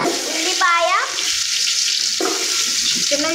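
Chopped onion hitting hot oil already holding cardamom and chana dal, giving a steady close sizzle with a brief voice near the start.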